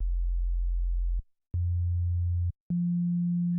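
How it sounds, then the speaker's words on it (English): A pure sine tone from a U-he Zebra 2.8 software synthesizer sounds alone as three sustained notes: a low hum, a short gap, a slightly higher hum, then a brief pause and a clearly higher steady tone to the end. "So that's kind of how I would create a sine wave."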